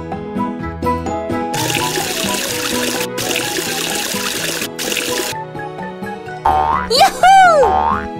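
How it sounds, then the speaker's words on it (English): Water trickles and pours over a toy bus to rinse away soap bubbles in a cartoon game, set against cheerful music and ending in bouncy, boing-like swoops. "Wash the bubbles away with water."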